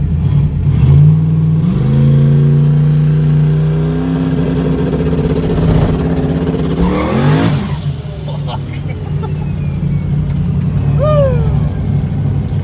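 A turbocharged Pontiac Trans Am street car making over a thousand wheel horsepower launches hard. The engine rises in loud, close revs through the gears, then fades as the car pulls away, and voices can be heard faintly over the engine.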